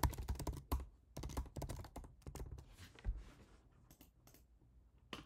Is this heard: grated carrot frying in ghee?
no